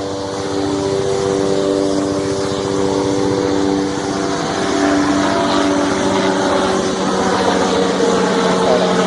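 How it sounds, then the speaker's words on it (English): A steady droning rotor and engine hum from a helicopter overhead, fairly loud and constant with a slight swell midway, no talking. "Helicopter or a plane? I think it's a plane. No, it's a helicopter."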